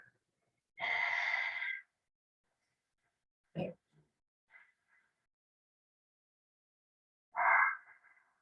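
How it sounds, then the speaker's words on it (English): A few slow, audible ujjayi breaths drawn through the throat, a long hissing exhale, a short rasp, then another breathy exhale with quiet pauses between. "That is the Ujjayi breath."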